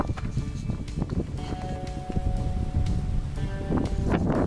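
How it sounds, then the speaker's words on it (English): Strong wind buffets the microphone at a lakeside fly fishing spot for bluegill, a steady loud rumble with gusty surges throughout and faint tonal whistles and rustling mixed in. "So it's super windy."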